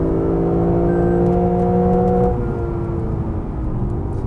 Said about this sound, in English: you just get this lovely, pure sounding V8 noise, which right up at the red line